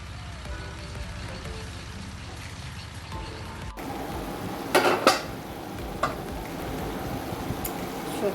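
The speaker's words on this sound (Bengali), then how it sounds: "সবজি ভাজি করতেছি, ভ্যারাইটিস সবজি। এতে আছে দেখুন কী কী, ফুলকপি, আলু, কাঁচা টমেটো," Mixed vegetables, including cauliflower, potato and green tomato, frying in a pan, with a steady sizzle under a few sharp stirring clinks and scrapes, and faint talk in the background.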